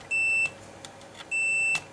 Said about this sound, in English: When I touch these legs, it will beep, and that means that it's good.